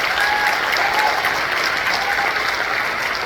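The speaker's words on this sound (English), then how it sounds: "let's give a big round of applause to our Wind Symphony" Audience applause for a school wind symphony at an arts school event, a dense, steady wash of many hands clapping at close range, continuous and even throughout with no voices over it.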